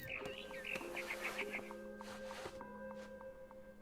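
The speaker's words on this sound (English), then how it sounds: "Then I heard chirping outside my window." A barn swallow in the video game What Remains of Edith Finch gives a run of quick, bright chirps over soft ambient game music, while a voice talks quietly underneath.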